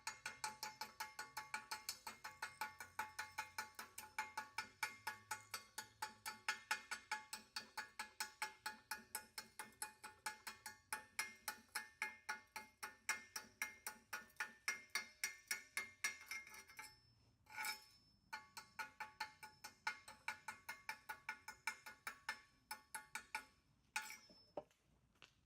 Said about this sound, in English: Gonna chip the slag now.